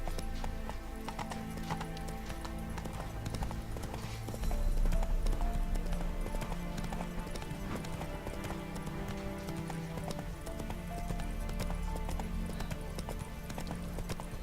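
Roach the horse galloping in The Witcher 3, steady rhythmic hoofbeats clip-clopping close and continuous, with a brief surge midway and faint voice in the background.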